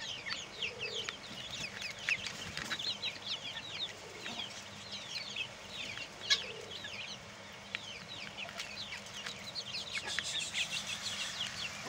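Several chickens cluck in quick overlapping bursts while they feed, with a duck nearby, the calls fairly close and continuous over a soft background hum.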